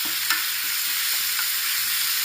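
Tomato pieces and onion fry in a pan for a fish curry, giving a steady close sizzle with soft stirring scrapes and one brief clink near the start.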